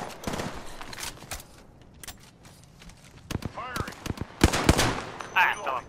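Rapid bursts of automatic gunfire from an Apex Legends match ring out in clustered volleys, loud and sharp, with a player talking over the shooting.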